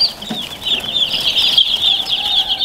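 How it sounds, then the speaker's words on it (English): Newly hatched chicks huddled in a hover brooder peep continuously in a dense, high-pitched chorus, many overlapping calls close by with no pauses. "we got some new chicks in the brooder that we just got this week"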